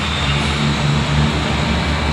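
A loud, steady pickup truck engine drones close by at a traffic-light intersection, a low rumbling hum with a faint rhythmic pulse and no talking.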